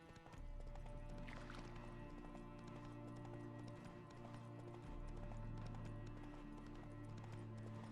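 Game audio from The Witcher 3 carries steady clip-clopping horse hooves with snorts and a whinny over layered music and ambient drones, all fairly quiet and continuous.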